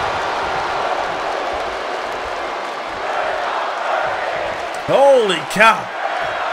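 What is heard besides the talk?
crowd cheering in WWE 2K23 video game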